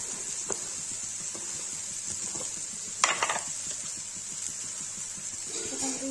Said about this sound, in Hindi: इधर आलू फ्राई हो गया है